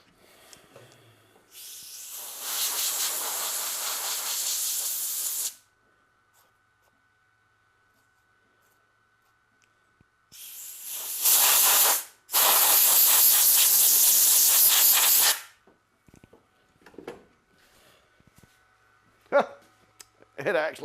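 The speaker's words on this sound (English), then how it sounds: "I'm going to hit that with an air hose because there's a lot of loose hair on that" Air hose blasting loose hair off engraved cowhide in two long loud hissing bursts, a short break between the second and third, with quieter handling noise and brief puffs after.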